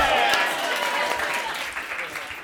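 An audience at a live comedy show claps and cheers, a dense wash of applause that slowly fades, with voices mixed in.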